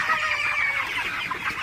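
Broiler chickens clucking together in a farm shed, a steady overlapping chorus of close, busy calls with no talk.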